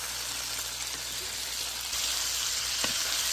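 Mushrooms, jalapeño and green peas fry in a hot pan for pad kra pao, a steady close sizzle and crackle that swells slightly louder partway through, with no speech.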